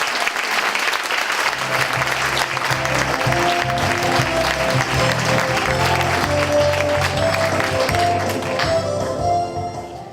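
Loud, sustained applause from a crowd at a political party rally in La Llosa de Ranes, continuous clapping that fills the whole stretch before fading slightly at the end.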